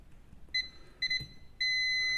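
A multimeter in continuity mode beeps while probing an inductor on a washing machine control board: two short beeps, then a longer sustained tone, close and clear with no talk.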